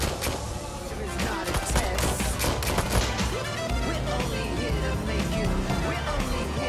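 Dense, continuous gunfire from the video game Watch Dogs: Legion, with rapid shots and bursts blending into a loud, steady barrage under game noise throughout.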